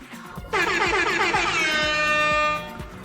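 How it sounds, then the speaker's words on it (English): A loud air horn sound effect blasts during a livestream, a single sustained two-second honk with a sharp onset and a fading tail. "Let me play the air horn."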